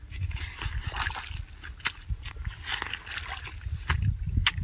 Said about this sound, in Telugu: ఇప్పుడు వచ్చేసి నీళ్ళు వచ్చేసి మళ్ళీ దీంట్లోకి ఇలా వచ్చేస్తాయి